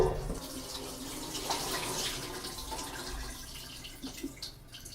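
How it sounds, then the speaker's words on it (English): Steady water running from a kitchen tap into a sink while soaked raisins for cinnamon raisin bread are drained, a soft continuous splashing rush at moderate level with no talking. "Now you're going to take your raisins that were soaking and drain them."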